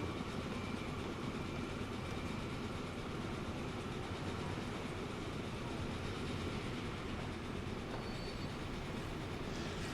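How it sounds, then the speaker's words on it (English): A train rolls along the tracks in the video game Transport Fever 2, giving a steady, low, continuous rumble with faint wheel clatter throughout, quiet and with no talking. "See when that train rolls in"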